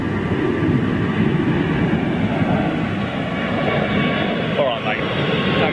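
A large jet climbs away from Heathrow Airport, its broad engine roar steady and loud throughout, with a voice talking over it.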